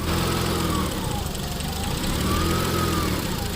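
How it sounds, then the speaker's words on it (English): A 2004 Mitsubishi Eclipse 3.0L engine idles close by with a surging fault, a continuous low rumble that wavers slightly in pitch and never settles into a perfectly even beat. "Yeah, listen how it's idling now."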